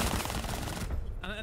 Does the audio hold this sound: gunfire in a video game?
yes